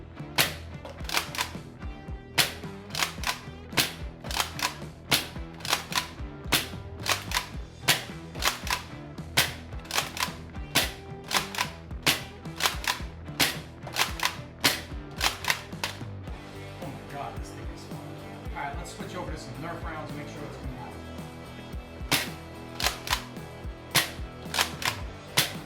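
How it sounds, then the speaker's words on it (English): Adventure Force Tactical Strike Liberator toy shotgun, a 2019 plastic model, firing at an indoor range: a long run of sharp, evenly spaced snapping shots and clacks, loud and close, with mechanical rattling between them and no talk. "do a little bit of target shooting to show you how accurate the Liberator really is"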